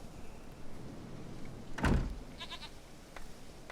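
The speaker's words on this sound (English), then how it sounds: "What you gonna do with that goat?" A goat bleats in Witcher 3, a short wavering call heard once after a thud-like knock, with quiet game ambience around it.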